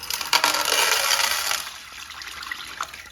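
A toilet flushing rocks in a siphon-jet-only test: a loud rushing gush of water that swells, holds for about a second and a half, then fades to a quieter trickle and drain with a brief knock near the end.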